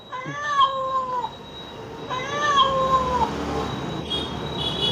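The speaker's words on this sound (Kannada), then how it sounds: "ಬೆಕ್ಕು" A security camera's speaker plays two loud, drawn-out cat meows, one after the other, with a faint electronic tone and quiet room noise beneath.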